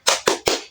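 A classroom group claps a cheer rhythm, three sharp, close claps in quick even succession.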